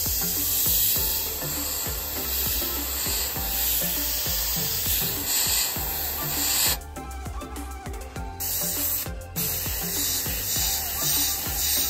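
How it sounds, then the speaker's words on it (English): An airbrush sprays fluorescent green paint onto a fishing lure to paint stripes, giving a close, steady hiss that breaks off briefly twice before resuming, with no talk. "let's put some of that in the airbrush and let's get to painting the stripes."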